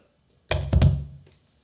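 A single dull thunk followed closely by a second clunk and a faint click as a Lekato loop pedal's cable is unplugged and plugged back in.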